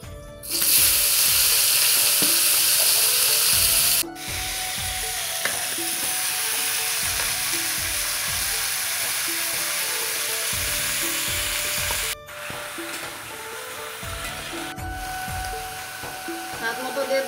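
Vegetables, pumpkin among them, sizzle and are stirred in hot oil with dried red chilli, green chilli and five-spice tempering for a Rath Yatra bhog dish. The frying hiss is steady and close, with a brief break partway through and faint talk underneath.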